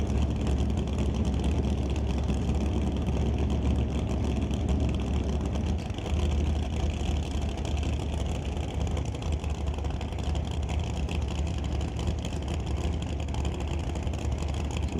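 A big block Chevy nitrous drag car at a raceway, its engine a loud, continuous low rumble heard at a distance and holding steady throughout, with no talk over it.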